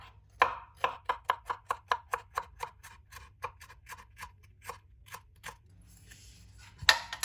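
Knife chopping a green chili on a board for a leftover-bread recipe: about fifteen crisp, close cuts in a steady rhythm that slows toward the end, then a louder clatter.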